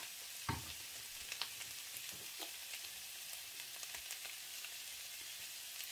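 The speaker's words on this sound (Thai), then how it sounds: "ผัดใส่ไข่จ้ะ" Eggs stir-frying in a pan give a steady bright sizzle, broken by a few soft clicks and scrapes from stirring, quiet and close with no voices.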